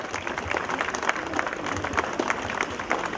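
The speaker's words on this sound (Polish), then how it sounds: "należy się tutaj e, gromkie brawa" A crowd claps steadily, a dense, continuous patter of many hands with no pauses, fairly loud throughout.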